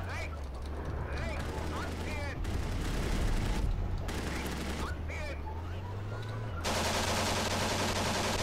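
Machine gun fire in the Steel Fury tank game, bursts of rapid shots over a constant low engine rumble, interrupted by brief pauses, with a voice talking over parts of it.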